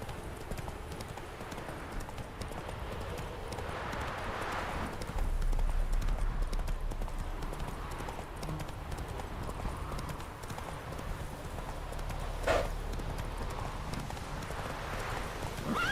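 Hooves of Roach, Geralt's horse in The Witcher, clip-clop steadily throughout, fairly close and even, with a brief sharper knock near the end and faint game ambience beneath.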